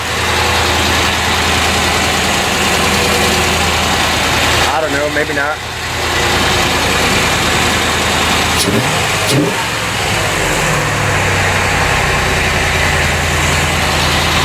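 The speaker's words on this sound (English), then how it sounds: "I think I got some noise though coming from my my air pump thingy." A 1990 C4 Corvette engine idles up close with a steady, loud rumble, carrying extra noise from its air pump, while a person speaks briefly over it partway through.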